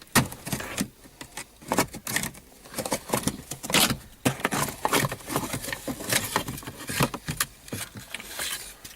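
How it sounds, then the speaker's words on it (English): Interior plastic trim pops loose around the shifter of a 2005 Jeep Grand Cherokee, giving a series of close sharp clicks, snaps and rattles in an uneven rhythm, with no voice over them. "See, I'm popping all this trim out here around the shifter."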